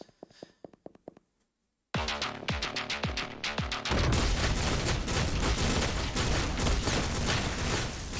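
Shotgun fire in the top-down action video game OTXO, with rapid, loud, booming blasts in quick succession that build into a dense, continuous barrage of gunfire.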